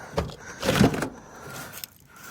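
A locked or seized door on an old four-door junkyard car, pulled at repeatedly, gives a couple of dull thuds and clunks in a short burst, then a single faint click, all recorded up close outdoors.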